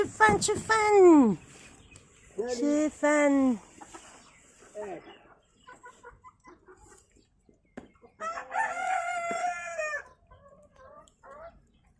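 Backyard hens peck at food while someone talks over them, and a rooster lets out clear crowing and clucking calls in several bursts near the start and again later.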